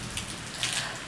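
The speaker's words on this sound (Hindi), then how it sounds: "आज बहुत तेज़ बारिश हो रही है" Heavy rain pours down in a steady, dense hiss with fine pattering drops throughout.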